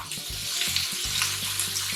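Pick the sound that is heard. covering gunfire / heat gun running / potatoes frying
potatoes frying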